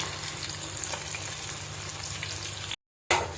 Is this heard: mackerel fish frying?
yes